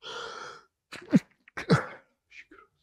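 A single person sneezes during a casual gaming chat: one sharp, breathy burst, then short vocal sounds and small trailing noises in an otherwise quiet room.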